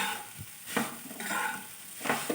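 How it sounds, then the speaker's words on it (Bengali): Cauliflower fries in a pan with a ground roasted spice mix of cumin, coriander, dried chilli and black pepper, sizzling close up while a spoon scrapes and turns it in several uneven strokes. "দিয়ে বেশ ভালো করে আবারও নেড়ে তুলে ভেজে নিচ্ছি"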